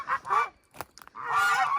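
Geese honk nearby: two quick loud honks, a brief pause with softer sounds, then one long drawn-out honk.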